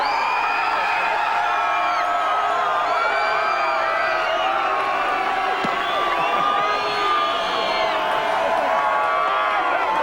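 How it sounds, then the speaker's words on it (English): Crowd cheering, whooping and applauding at a V8 Supercars race win celebration at Sandown racetrack, a dense continuous roar of many voices. "save your biggest applause for this man"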